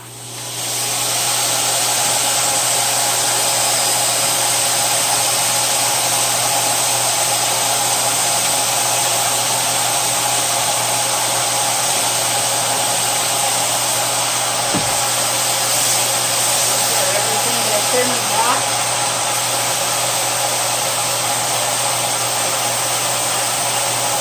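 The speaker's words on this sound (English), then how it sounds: "zipped up tight, and now the vacuum cleaner" A vacuum cleaner sucks the air out of a zipped-up bag, a loud, steady, unbroken whine and rush of air that holds for the whole stretch, with a faint crinkle partway through.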